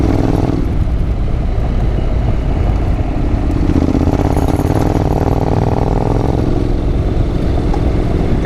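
A Honda NC750X motorcycle climbs a steep loose gravel track toward a ridge top, its engine droning loudly and continuously up close, with crunching and clatter from the tyres on the gravel.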